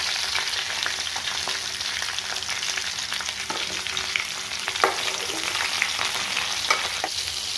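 Bitter gourd pieces frying in hot oil with cumin, mustard seeds and dried red chillies, a steady loud sizzle with scattered pops and crackles, stirred now and then, no talk.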